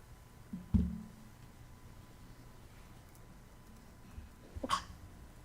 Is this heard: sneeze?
yes